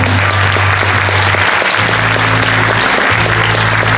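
Loud, dense applause from an audience at a blues workshop concert fills the room, a continuous close wash of clapping with a low hum underneath.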